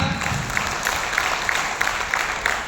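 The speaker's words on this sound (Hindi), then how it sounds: "सभी के लिए एक बार जोरदार तालियां" Seminar audience in Jaipur applauding, a dense, steady wash of clapping from many hands that sustains evenly throughout, with no voices standing out.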